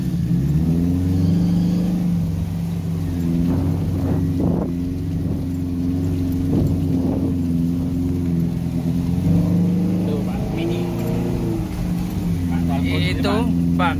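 A car engine drones loudly and steadily as the driver holds the throttle open, with wind buffeting the microphone and people talking over the engine noise throughout.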